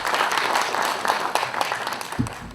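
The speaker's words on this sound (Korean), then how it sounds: "다시 한번 큰 박수 부탁드리겠습니다" An audience at a panel discussion on fruit consumption gives loud, sustained applause, a thick spread of clapping that runs steadily without pause before easing slightly at the close.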